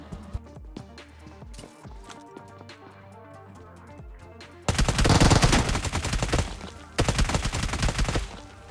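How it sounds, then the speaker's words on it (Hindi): UMP submachine gun firing in PUBG Mobile, two loud close-up bursts of rapid automatic shots, the first longer and the second after a brief pause, following a stretch of quieter game sounds. "अब उसको बंदूक से उड़ा देंगे, यूएमपी से।"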